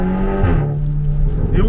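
A tuned Audi TTS MK2 with ABT upgrades, its engine note rising and then settling into a loud steady drone up close, heard from inside the car.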